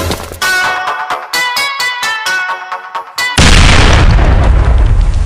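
A bomb explodes in a Minecraft-style video game, a loud sudden blast with a sustained roaring rumble that follows a run of rhythmic, chiming game tones.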